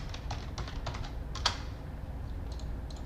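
Light, quick keystrokes on a computer keyboard come in short clusters, with a couple of sharper taps, fairly close and quiet over a low steady hum.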